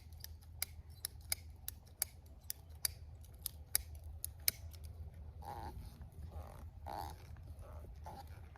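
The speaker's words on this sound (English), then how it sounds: "I'm gonna make one little small cut again." A ratcheting cutter snips through 1/2 inch PVC pipe in a quick series of sharp clicks, close and faint over a low background hum, followed by softer handling noises.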